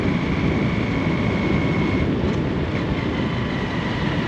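A train rolls past a closed railway level crossing beside a highway, making a loud, steady, broadband rumble that holds at an even level throughout with no voices.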